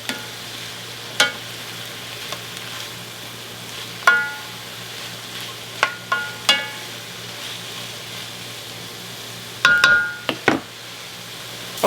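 A preheated enamel-covered cast iron pan sizzles with a soft continuous hiss, broken by scattered sharp clicks and taps of stirring, with a louder burst of clatter near the end.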